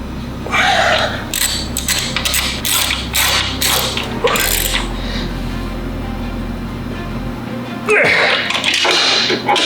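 Ratchet clicking in rapid bursts as exhaust bolts coated in blue Loctite are tightened on a 2022+ Yamaha XSR900 during a Yoshimura AT2 stainless exhaust install, loud and close, with a steady low hum behind it.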